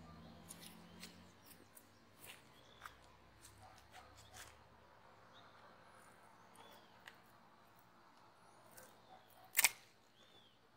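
Shears cut a pitaya plant, with faint clicks and rustles close by, then one sharp, loud snip near the end.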